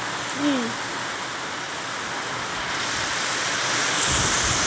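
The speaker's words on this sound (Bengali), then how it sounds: "দেখো বন্ধুরা কি ভীষণ বৃষ্টি নামছে" Heavy rain pours down at a riverside park, a steady broadband hiss that swells slightly louder toward the end, with a brief faint vocal sound near the start.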